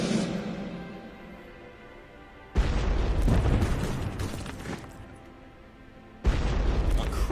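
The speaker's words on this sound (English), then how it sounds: "critical hit there with the AT. That was their anti-tank weapon. Absolutely, absolutely destroyed our tank." An anti-tank weapon destroys a tank in the video game Frontline: World War II, giving a loud booming explosion at about 2.6 seconds that rumbles on for several seconds, then a second heavy blast near the end, over continuous battle noise.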